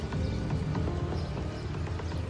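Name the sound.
horse hooves clip-clopping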